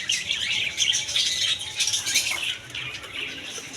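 Many caged lovebirds in a bird shop chirp and twitter busily, with wings fluttering and rustling close by, continuous throughout.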